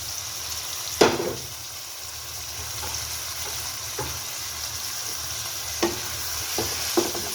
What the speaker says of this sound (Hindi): अब आपने इनके साथ इसको बहुत ही अच्छी तरह जो है ना वो भूनना है।